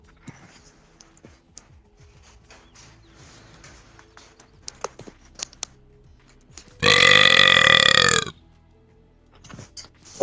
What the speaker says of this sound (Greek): Αυτό το ρέψιμο θα μείνει μέσα στο βίντεο.